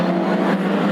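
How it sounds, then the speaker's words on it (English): Vauxhall Chevette hot rod with a 2-litre Pinto engine racing past on a short oval track, a loud, close, sustained engine roar. "in his Vauxhall Chevette powered by 2-litre Pinto."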